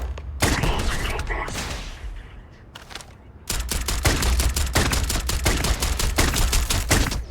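Video game gunfire erupts in dense, loud automatic bursts, a rapid rattling volley up close, a brief lull with scattered shots, then a sustained heavy stream of fire to the end.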